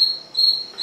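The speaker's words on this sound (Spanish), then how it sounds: "Este es el grillo." A recorded cricket chirps in a steady, high, continuous trill, clear and fairly loud, with a brief dip in the middle and no talk.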